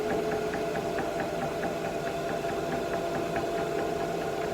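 A potter's wheel spins steadily at a slowed pace while clay is thrown by hand, its motor giving a continuous mid-pitched hum with a faint regular ticking pulse throughout, loud and close with no talking.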